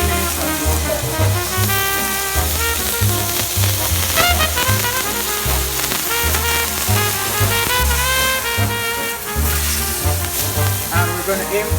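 A surf and turf dinner fries in a hot pan, giving a loud, continuous crackling sizzle with popping spatter that fills the whole stretch and has no voices over it.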